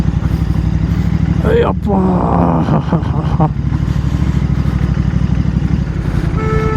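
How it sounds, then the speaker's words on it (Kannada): A motorcycle labours up a muddy uphill road with a worn rear tyre that keeps skidding. The engine chugs loud and close throughout, with a brief shout partway through. "ಬಟ್ ತುಂಬ ಸ್ಕಿಡ್ ಆಗ್ತಾಯಿದೆ ನನ್ನ ಗಾಡಿ ಅಂತೂ."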